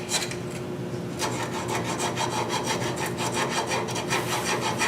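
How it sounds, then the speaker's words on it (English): Hand sanding with 80 grit sandpaper rounds the edges of a wooden scoop, a rhythmic run of rasping back-and-forth strokes, close and fairly loud, with no talking. "I'm using some 80 grit here just to blend these edges in."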